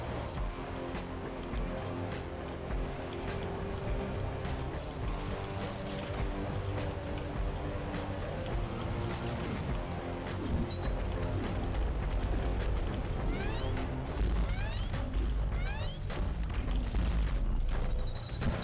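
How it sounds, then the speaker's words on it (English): Rocket launcher explosions in the shooter game Nine Rounds Rapid, dense booming blasts and rumble layered with busy game effects, continuous and loud throughout, with no talking. "It's a regular rocket launcher."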